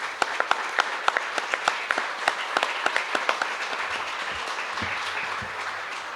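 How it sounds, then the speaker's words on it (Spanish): Audience applause for two guests at a panel discussion event, a steady burst of clapping from a crowd that gradually thins out toward the end. "creo que tenemos que darle un aplauso a nuestros dos invitados."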